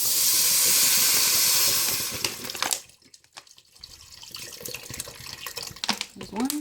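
Water poured from a tap into a hot soup pot with shiitake, potato and leek hisses and sizzles loudly for about two seconds, then fades into quieter bubbling and clinking as the pot settles.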